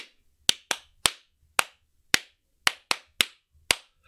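Hands clap a rhythmic pattern grouped in fours: nine sharp, close claps with uneven spacing and brief pauses between them, each one crisp and alone against silence.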